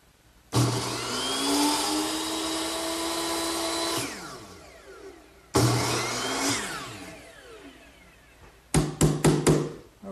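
Hand saw cutting window stop molding set in a miter box, two sustained loud bursts of rasping strokes separated by a pause, then a quick cluster of sharp knocks or taps near the end.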